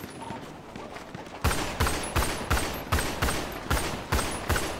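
Gunfire in the video game GTA, roleplay mode. Scattered quieter shots give way to a steady run of loud, evenly spaced blasts, roughly ten in quick succession, each with a sharp crack and ringing tail.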